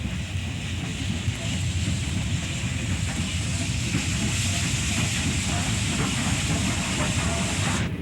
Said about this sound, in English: Here we see a freight westbound coming into Spear from the Denver line.